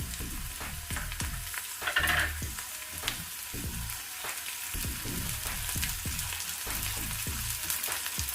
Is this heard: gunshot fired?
no